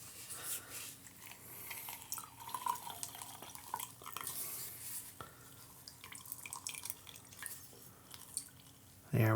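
Fresh lemon juice from half a lemon squeezed into a bourbon cocktail, a steady wet dripping and trickling of liquid with small clicks, close and fairly quiet throughout.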